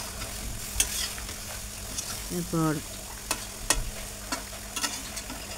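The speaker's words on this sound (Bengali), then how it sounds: "এভাবে সুন্দর করে নেড়ে চেড়ে দিতে হবে" Cauliflower and eggplant curry with fish is stirred and fried in a pan, with soft scraping strokes over a low sizzle and a few sharp utensil clicks; a voice speaks briefly.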